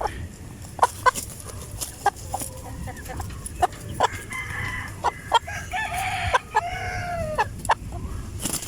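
Heritage chickens in a free-range yard cluck and cackle repeatedly in sharp, fairly close bursts, with a steady run of clucks and a longer cackling phrase near the end.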